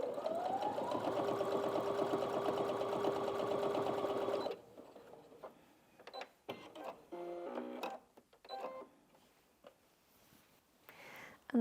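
A Brother Inventio NV1850Q sewing machine stitches steadily at close range for about four seconds, then stops; afterward come soft handling clicks and brief bursts of noise as threads are moved.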